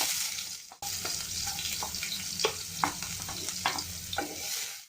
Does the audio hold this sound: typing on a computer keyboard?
no